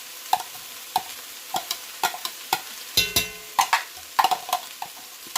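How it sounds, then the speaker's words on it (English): Garlic cloves and chopped fresh ginger land in a pan amid a soft sizzle, punctuated by a series of clicking scrapes and taps of a utensil stirring against the pan, close and with no talking. "Now I'm going to throw in my 4 cloves of garlic and my 1 inch piece of ginger, fresh ginger that I chopped up."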